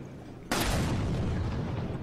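Tripwire bomb detonating in the video game Resident Evil 5, a single sudden loud blast that hits at once and then rumbles and crackles steadily for over a second with no talk over it.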